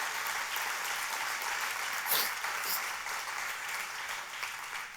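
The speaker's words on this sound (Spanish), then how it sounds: "De ese aplauso a Dios" A church congregation applauds during a sermon, a dense, even wash of clapping that swells briefly midway and carries on steadily, fairly close and loud.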